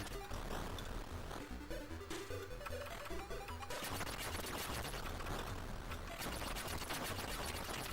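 Tank shooting in an Amstrad video game, a dense nonstop barrage of chiptune-style blasts and crashes over game music, loud and continuous for the whole stretch with no voice.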